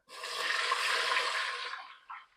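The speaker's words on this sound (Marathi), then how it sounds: "पाणी टाकायचंय." Water poured into a pot holding ghee and roasted cashews and almonds, for a jaggery lapshi, makes a close, steady rushing gush for about two seconds, then a brief final splash.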